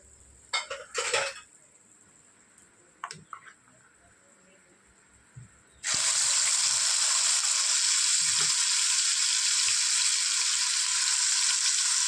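Ground onion and tomato paste hitting hot oil over a low gas flame, a sudden loud steady sizzle that holds to the end, preceded by a few clinks and scrapes of a utensil against the pan.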